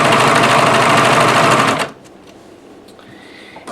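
A serger sewing machine stitches a finished edge along a crochet yarn blanket, running loud and steady for under two seconds before cutting off abruptly into near silence with faint handling noise.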